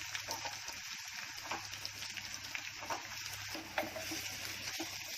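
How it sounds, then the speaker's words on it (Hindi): Chopped onions, crushed garlic and chilli pieces frying in oil in a pan for a dried Bombil dish, a soft steady sizzle with light stirring clicks, fairly faint and close. "अब इसे प्याज की रंगत बदलने तक भूनूंगी"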